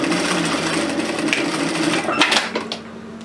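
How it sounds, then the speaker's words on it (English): Sewing machine running steadily while stitching elastic onto a tiered dress in straight lines, forward and reverse, a continuous close motor whir with a slight shift near the end. "I like to do straight lines of stitching up and reverse."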